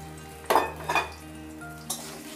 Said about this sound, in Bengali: এবার এই আলুগুলোকে আমি একটু লালচে করে ভেজে নেব।